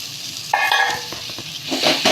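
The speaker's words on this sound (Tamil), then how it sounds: "நல்லா வதக்கிடுங்க." Chickpeas sautéing in an onion, tomato, ginger and garlic masala for chana masala, giving a close, steady sizzle with stirring scrapes and a brief louder burst of frying when stirred.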